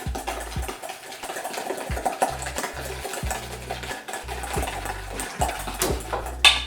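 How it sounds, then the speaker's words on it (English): A mixture is whipped by hand in a bowl for a viral TikTok recipe, giving quick, irregular clinks and scrapes of utensil against bowl with wet stirring sounds, fairly close and alone. "Comment below if I should keep whipping or if I should stop"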